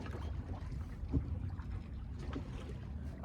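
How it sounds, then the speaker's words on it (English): Water laps softly against the hull of a 24-foot San Juan sailboat on a calm day. The sound is gentle, close and irregular, with quiet trickles and small splashes and no talk. "All you hear is just water, and it's just peaceful."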